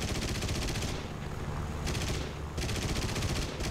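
Rapid automatic gunfire rings out in War Thunder Ground Forces, around a YAK-9T tank destroyer, in three loud bursts of fast, evenly spaced shots separated by short pauses.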